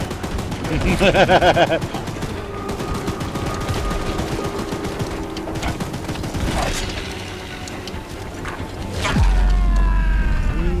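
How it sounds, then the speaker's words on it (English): Machine gun fire rattles in the video game Choo Choo Charles, with rapid repeated bursts and mechanical clanks running under excited talk throughout. "Don't let the gun overheat!"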